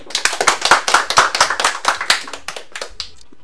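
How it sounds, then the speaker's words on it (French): A small audience claps loudly for a child named Tom before he tells a story, a brisk run of distinct, close handclaps that slows and fades out after about three seconds. "on peut applaudir très fort, Tom"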